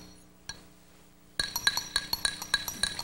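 A brass padlock with a steel shackle and its keys rattle inside a drinking glass, giving a quick run of bright, close clinks and chinks after a faint tap and a brief quiet stretch.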